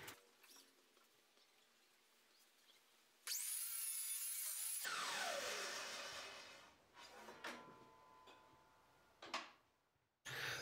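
Miter saw cutting solid ash boards for a dining table: a loud saw whine about a second and a half long rising sharply then winding down, followed by rattling wood handling and a short final burst.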